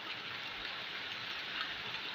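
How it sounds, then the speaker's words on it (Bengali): Early-morning rain falls in a steady, even hiss of many drops, constant and moderately soft throughout. "এরপর দেখলাম বৃষ্টি আবার শুরু হয়েছে।"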